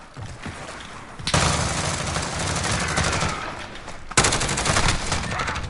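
Gunfire in the Call of Duty Modern Warfare video game, dense bursts of automatic shots and a loud volley near the end, close and continuous over a background of game noise.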